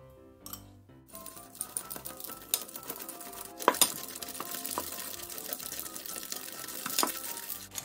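Butter and sugar with vanilla sugar being stirred and mixed together in a bowl for Christmas biscuits, giving a steady run of soft scraping and clicking strokes, close and moderately loud, with a few sharper knocks against the bowl.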